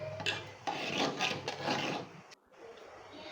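Rice flour and khoa kheer being stirred in a pan, a steady scraping, rasping rub of the spoon against the pan bottom in repeated strokes, close and fairly loud, with a brief pause near the end before the scraping resumes.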